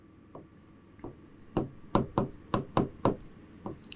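Chalk or marker strikes and scratches on a classroom board during a chemistry lesson, heard as a series of sharp, evenly spaced taps and strokes that grow louder in the middle, close by, over faint room noise.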